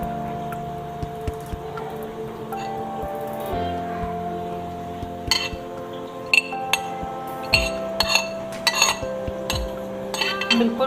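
A spoon clinks against a bowl while finely chopped cabbage is added for a chicken egg sandwich, giving scattered sharp metallic taps and clicks over a steady background hum.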